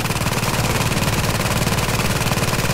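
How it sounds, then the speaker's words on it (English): A deployed turret fires steadily in a video game, a continuous rapid rattle of gunfire at constant loudness and close range, with no talking. "As you can see, is the turret's doing its work."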